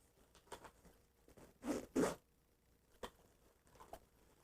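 A zipper is pulled on the front zippered pouch of a bug-out bag, two quick loud rasping pulls at close range amid softer rustling and small fabric clicks, with no talking.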